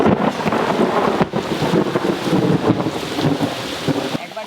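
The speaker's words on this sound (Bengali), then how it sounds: "আরে আবার জোর বৃষ্টি এসে গেল রে" Heavy rain falling on a monsoon day, a loud, continuous wash of downpour with gusty, rumbling wind buffeting close to the microphone throughout, and no voices.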